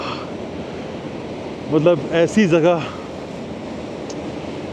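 The Bhagirathi River rushes down near Gangotri in Uttarakhand as a steady broadband roar of water throughout, with someone speaking briefly over it mid-way.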